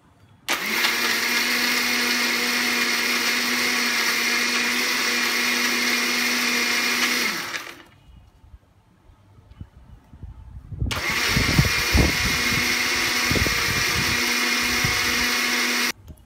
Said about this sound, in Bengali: এবার ব্লেন্ডারের ঢাকনা লাগিয়ে ভালো করে ব্লেন্ড করে নেব।